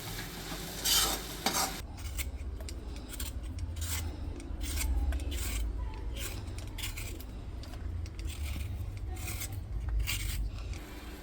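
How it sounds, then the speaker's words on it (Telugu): Grated raw mango frying with salt in a pan crackles softly while a spatula stirs and scrapes it in repeated close strokes, with no talk. "తగినంత ఉప్పు వేయాలి మామిడికాయ తురుము ఒక నిమిషం పాటు వేగనివ్వాలి"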